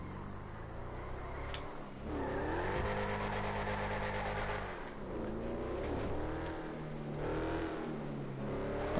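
A car engine in GTA Online, fitted with a supercharger blower, revs loudly and steadily with rising and falling pitch, running continuously throughout.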